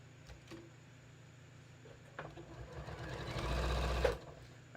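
A sewing machine stitching a tee gives a few faint clicks and a brief quiet stretch, then a short burst of rapid stitching that builds and cuts off abruptly.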